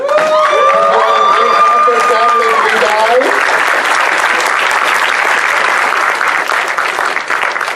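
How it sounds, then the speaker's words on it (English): At the 2018 closing ceremony, a strong round of crowd applause with some cheering for the guest of honor rises after sustained musical tones fade, loud and dense, tapering slightly at the end. "If we can get one more round of applause for our great guest of honor this year."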